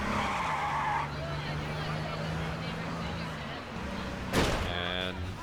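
In a driving video game, a car plows a police car out of its path with tire skids and engine drone, then a sharp crash-like impact near the end, while a person talks over it.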